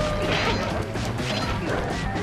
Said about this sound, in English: At least alcohol apparently gives you money by smashing it.